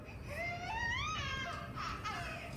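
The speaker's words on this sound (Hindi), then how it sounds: "बच्चों की रोने की आवाज़।" Children crying in an Indian village, a high wavering wail with rising and falling pitch that continues for a couple of seconds, fairly close and with no talk over it.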